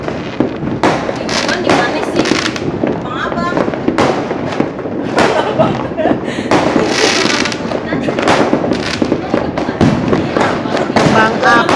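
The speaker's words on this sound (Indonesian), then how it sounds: "Kembang api di mana-mana itu suaranya" New Year's fireworks crackle and boom continuously, a dense barrage of sharp pops and bursts, with voices chattering underneath.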